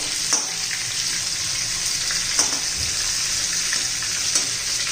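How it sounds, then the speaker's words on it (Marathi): Chillies stuffed with masala frying in a pan after being turned, a continuous bright sizzle close up with a few light spatula taps scattered through. "सर्व मिरच्या मी पलटून घेतलेल्या आहे."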